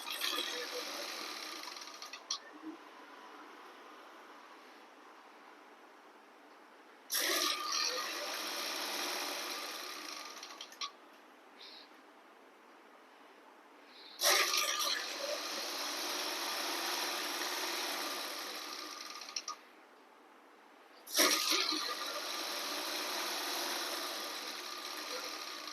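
A sewing machine stitches a godet churidar in four whirring bursts of several seconds each, separated by short quiet pauses, close and clear.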